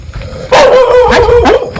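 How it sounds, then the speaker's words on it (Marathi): A dog barks loudly and close at night, a couple of sharp, strained barks with a whiny edge over about two seconds. "कुत्रा कुत्रा उठतो बघ"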